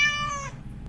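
A recorded cat meow played back from an app button: a single short, clear meow that fades quickly, alone and close.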